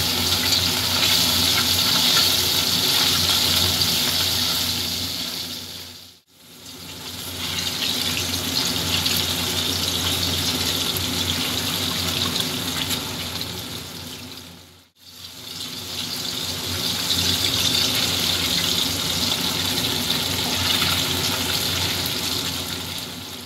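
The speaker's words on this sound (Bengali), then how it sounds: "পরের মাছগুলো আমি ভেজে নিচ্ছি।" Kajoli fish frying in oil in a pan, a loud, steady hissing sizzle that continues throughout with no talk, interrupted twice by short dips.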